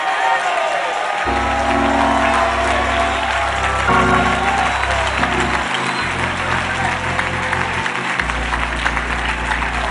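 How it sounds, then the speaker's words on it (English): A church congregation claps and shouts in praise, a loud sustained wash of applause and cheering mixed with voices and organ or keyboard chords underneath. "Would you give a hand clap and a shout to the Lord before we're seated?"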